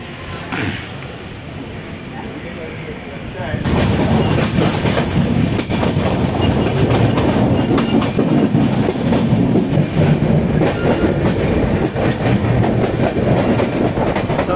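Passenger train running on rails through heavy monsoon rain on the Mumbai to Mahad route, a steady loud rumble with clickety-clack, quieter at first then swelling sharply after a few seconds and staying loud throughout.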